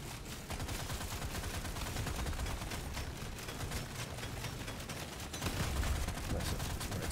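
Fire turrets in Deep Rock Galactic Survivor shooting steadily, making a dense, continuous rattle of rapid shots that swells slightly near the end.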